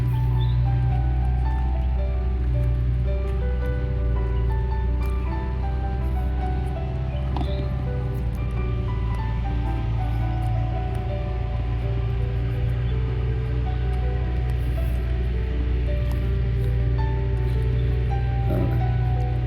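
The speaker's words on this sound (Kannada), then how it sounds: "ಭಾಳ ಪೋರ್ಸಲ್ಲಿ ನೀರು ನುಗ್ತದೆ" Water rushes forcefully through an irrigation diversion gate on the Sauparnika lift irrigation scheme in Udupi, a steady, loud, continuous roar with no voices heard.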